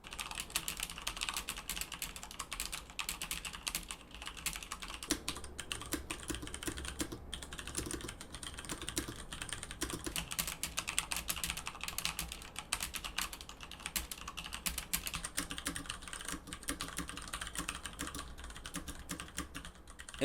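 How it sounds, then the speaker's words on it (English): Typing on mechanical keyboards, a Varmilo VA87M and a K70 with Cherry MX Red switches: dense, steady clacking of keystrokes, close and continuous with no talk. "I did do a quick sound test against my K70 with Cherry MX Reds"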